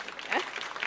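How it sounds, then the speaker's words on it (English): Audience applause for a speaker at a security conference, a short burst of scattered hand clapping in a hall, moderately loud, with some voices mixed in. "So please give a round of applause to our next speaker, Lars Lefebvre."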